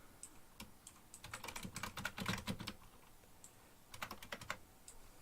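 Typing a name on a computer keyboard: uneven runs of close, crisp keystrokes that build into a dense flurry, then a few scattered taps, quiet with no talking.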